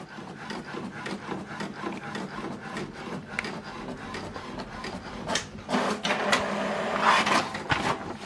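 An HP DeskJet 3700E-series home inkjet printer running off a page sent over Wi-Fi Direct, with steady mechanical whirring and rubbing that grows louder and busier toward the end as the paper feeds through.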